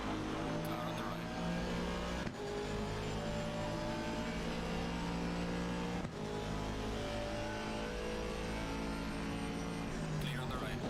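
A race car engine drones steadily and loudly throughout in Assetto Corsa Competizione at Monza, with dense sustained harmonics and brief gear-shift dips, as other cars run alongside in a public online lobby.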